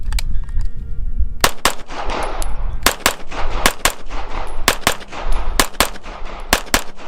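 A Springfield Kuna roller-delayed 9mm fires a rapid series of loud, sharp shots at close range, about a dozen cracks in quick bursts, each followed by ringing reverberation.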